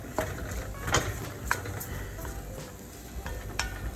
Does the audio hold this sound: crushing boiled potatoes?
yes